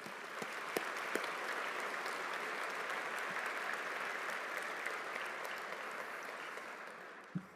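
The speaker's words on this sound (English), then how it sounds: "please join me in a round of applause for everyone." A large audience claps continuously and evenly for several seconds, a dense wash of applause that fades slightly at the end.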